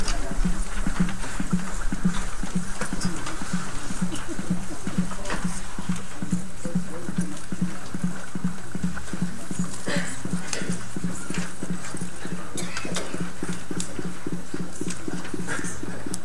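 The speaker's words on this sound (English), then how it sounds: "A couple horses are coming." Horses approaching during a township council meeting, a steady, regular clip-clop of hooves in the low range, fairly loud and continuous against a busy room background, with no talk over it.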